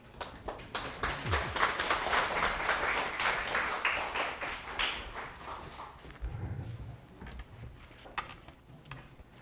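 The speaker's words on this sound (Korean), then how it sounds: "자, 나오실 때 박수를 드리겠습니다." Moderate audience applause at a church special lecture, a few seconds of steady clapping from a room of people that thins out into scattered claps and a few thumps as it fades.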